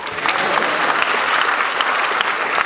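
A live audience at a spoken-word lounge event claps steadily, a dense, loud wash of applause that holds evenly throughout with no talking over it.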